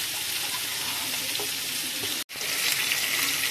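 Tandoori chicken sizzles steadily while roasting on a gas oven, a close, continuous crackling hiss that cuts out for a moment partway through and then resumes.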